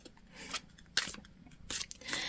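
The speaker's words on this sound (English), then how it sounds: "as I'm shuffling out these cards" Tarot cards are shuffled by hand close up, giving quiet crisp riffling and snapping bursts in a few short irregular flurries, faint and without talk.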